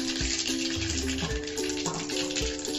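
Cumin and mustard seeds sizzle steadily in a little hot oil for a tempering, a continuous close crackle with small pops and faint stirring, no voices.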